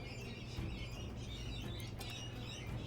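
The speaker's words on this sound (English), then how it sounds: "Oh man, you can really hear those birds," Morning birds chirp and tweet in the Total War video game, many small calls scattered over a steady low ambient wash, fairly faint and with no talk.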